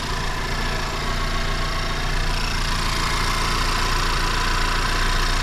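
A Honda Civic Type R FL5 with a newly installed oil cooler idles steadily up close, a continuous even engine hum with no talk over it.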